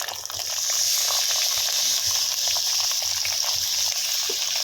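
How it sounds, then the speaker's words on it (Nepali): Onions frying in oil, a close, steady hissing sizzle that runs evenly for several seconds before cutting off abruptly. "यहाँ चाहिँ हामीले तेलमा चाहिँ प्याज हाल्नुपर्ने हुन्छ।"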